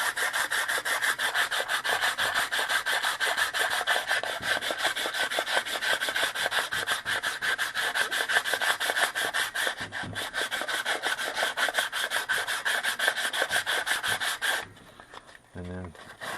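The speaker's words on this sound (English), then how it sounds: "take some sandpaper and clean it up and just do it like that" Sandpaper scrubs back and forth over a wheel bearing shaft end on rolling baskets in fast, steady strokes for about fourteen seconds, close and alone, then stops with a few handling knocks.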